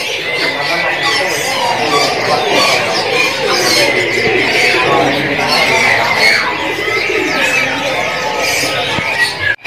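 Cucak rawa songbirds and other caged birds at a bird-selling kiosk chirp and squawk continuously in a dense, busy chorus, with people talking in the background throughout.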